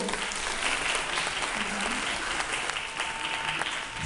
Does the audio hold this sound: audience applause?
yes